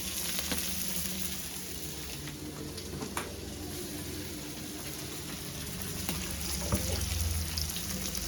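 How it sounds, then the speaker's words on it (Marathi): Malvani fish frying in a spoonful of oil on a well-used iron griddle, giving a steady, moderately loud, even sizzle with faint crackles throughout and no talking. "अशा सगळ्या मच्छी घ्यायचं चमचाभर तेल टाकते जरासं"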